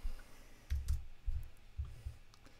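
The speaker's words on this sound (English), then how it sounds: "type in on the keyboard and type gain tilde" A few soft clicking keystrokes on a computer keyboard in short bursts, close and fairly quiet against a faint background hiss, with pauses between the clusters.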